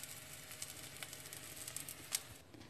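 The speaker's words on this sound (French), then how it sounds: "Faire cuire la préparation qu'on a mis en ovale dans la poêle de chaque côté." A vegetarian burger patty, shaped into an oval, fries in a pan with a quiet, steady sizzle and occasional soft pops and crackles throughout.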